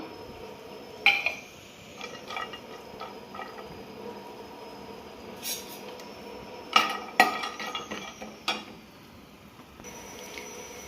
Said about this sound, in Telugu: పాన్ కాస్త వేడైనాక కొద్దిగా కాజు వేసి ఫ్రై చేసుకుందాం